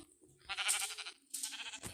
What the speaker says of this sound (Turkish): Mesela burada bir tane koyun var.